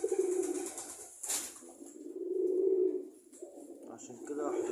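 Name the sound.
male pigeon approaching the nest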